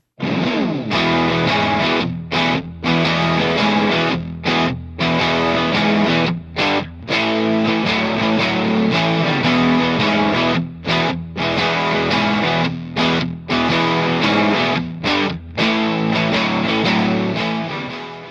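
Three layered distorted rhythm guitar tracks play a dense, full riff together, loud and steady, with short rhythmic stops punctuating the pattern.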